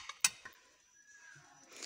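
Opaline dinner plates handled in a shop, a sharp ceramic clink and a couple of lighter taps, then quiet with faint scraping near the end, close and fairly soft.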